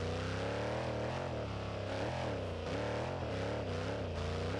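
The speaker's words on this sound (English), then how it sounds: "What is that engine sound?" A van's engine revving in BeamNG Drive on a proving-grounds course, loud and continuous, its pitch rising and falling in repeated surges with no pause.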